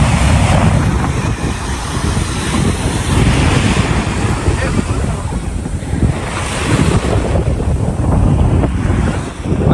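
Sea waves roll onto the beach at Karaikal, a loud continuous roar of surf with rising and falling surges and heavy wind buffeting the microphone.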